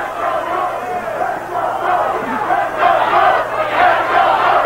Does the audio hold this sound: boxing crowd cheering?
yes